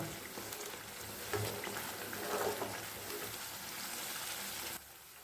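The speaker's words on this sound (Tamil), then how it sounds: "இதை நல்லா அப்படியே வதக்கி வதக்கி வதக்கி எடுத்துக்கோங்க." Ginger for pickle sautés in a pan with a steady, quiet sizzle and crackle, a few louder spits along the way, then it drops off abruptly near the end.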